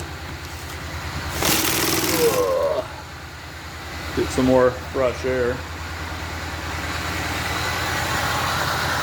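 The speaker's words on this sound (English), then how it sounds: "I'm surprised the engine's actually like running pretty smooth" A car engine idles steadily through the whole stretch, a low continuous rumble under two short bursts of talk from people inside the vehicle, with an open window letting in extra outside noise.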